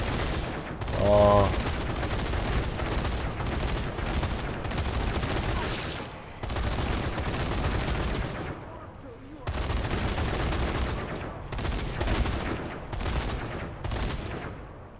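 Mounted gun firing in the Zombie Army 4 shooter game: loud sustained bursts of automatic fire, broken by short pauses around the middle, with brief talk early on.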